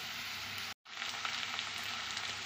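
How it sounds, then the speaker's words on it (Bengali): Carrots, beans and capsicum stir-frying in a pan give a steady, bright sizzle that stays close and even, with a brief dropout before it resumes. "গাজর আর বিম আমি একসঙ্গে দিয়ে দিয়েছি, একটু নেড়ে নিয়ে তারপর ক্যাপসিকামটা দেবো।"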